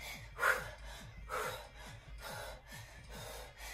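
Heavy rhythmic breathing during a home strength workout, with a few loud gasping breaths and softer repeated exhales alongside faint low thumps from movement.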